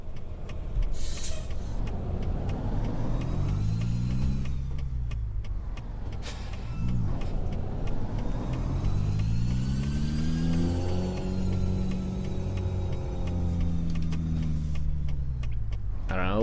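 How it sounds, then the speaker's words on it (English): Truck turbo whine in Euro Truck Simulator 2, a high thin whistle rising and falling over a loud, rumbling diesel engine that revs up and down through gear changes, steady and close throughout. "I'll turn it up for you guys so you can hear the turbo whine a little bit"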